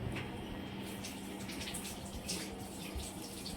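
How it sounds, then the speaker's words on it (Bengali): Water running from a tap while someone washes their face, a steady faint splashing stream with no talk. "মুখ ধুচ্ছি।"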